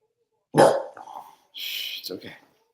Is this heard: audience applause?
no